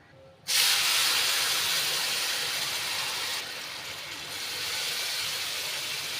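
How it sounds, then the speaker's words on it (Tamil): Hot water poured into roasted semolina and sugar in a pan for kesari gives a sudden loud sizzling hiss that settles into steady steaming and bubbling, close and alone. "சுடுதண்ணி ஆட் பண்ணிக்கோங்க"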